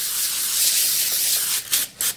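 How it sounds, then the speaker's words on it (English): Pam cooking spray hisses onto a pan in a long steady burst, followed by two shorter sprays, close and fairly loud with no talking. "We gonna take our pan and we gonna add Pam spray to it."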